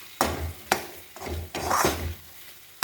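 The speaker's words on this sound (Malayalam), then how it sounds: "ഇളക്കി കൊടുക്കാം" A spoon stirs paneer butter masala with capsicum pieces in a pan, giving four distinct scraping strokes with soft sizzling between them, close and fairly quiet.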